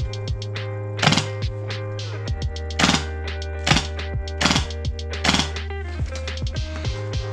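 An A&K PKM airsoft gun fitted with a Polarstar F2 engine fires at a target, sharp close shots in irregular bursts over a steady low hum.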